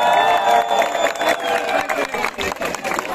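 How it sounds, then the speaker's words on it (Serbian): A crowd applauds and cheers at the winners' ceremony of a business running race in Niš, Serbia, with dense, continuous clapping and shouts at steady loudness throughout. "Ajmo za sve Niši, jedan veliki aplauz."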